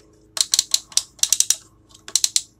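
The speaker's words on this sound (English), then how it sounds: "His shoulders are in clicky joints." Ratcheting shoulder joints of a large Mech Fans Toys robot dragon figure clicking as the limbs are moved, a quick series of sharp close clicks in small bursts against a quiet background.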